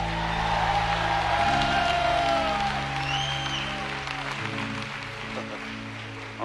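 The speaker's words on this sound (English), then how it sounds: "Can we give the worship team a round of applause?" A church congregation applauds the worship team in a large room, a steady, dense wash of clapping with scattered cheers and whoops that fades slightly toward the end.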